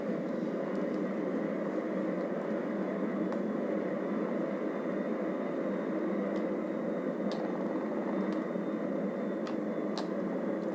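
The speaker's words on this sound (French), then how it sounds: "C'est dur à contrôler les jets qui fument." Smoking jet aircraft flying in the video game GTA 5, a steady loud engine roar with a constant high whine and occasional sharp clicks, no voices.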